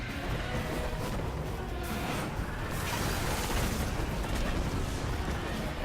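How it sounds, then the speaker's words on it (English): Explosions in the video game Destiny during a Nightfall strike against Sepiks Perfected, a dense wash of overlapping blasts and rumble with grenade bursts rising and falling, loud and continuous with no talk. "And explosions continue."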